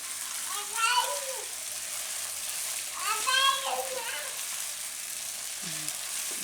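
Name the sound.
soaked sabudana and peanuts being stirred in a hot pan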